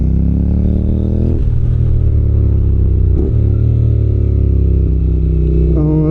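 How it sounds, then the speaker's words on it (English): A 2015 Honda NC750X twin-cylinder 750 motorcycle engine drones loudly and steadily from close by while riding, its harmonic pitch rising through the gears, dipping at shifts and climbing again. "So this is a twin-powered 750, giving this all but beautiful sound."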